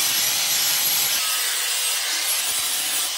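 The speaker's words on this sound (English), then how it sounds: "So we sharpen the blades, which is what I want to do from the start." Plastic fan blades being sharpened, a continuous loud abrasive scraping and rasping that stays steady throughout, close up with no talking.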